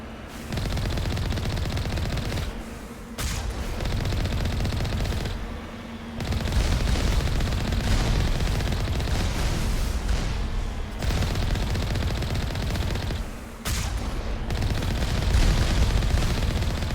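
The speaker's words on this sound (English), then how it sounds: "Oh geez, they're shooting at us already." Sustained bursts of gunfire from hostile drones in the Mass Effect game on the Moon, loud and dense with rapid machine-gun rattle and booming shots, pausing briefly a few times before resuming.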